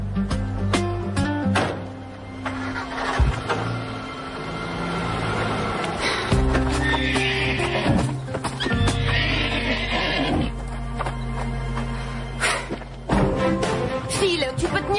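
A horse whinnies loudly and its hooves clip-clop over a steady ground of music or scene sound, with voices briefly mixed in, all held close and full throughout.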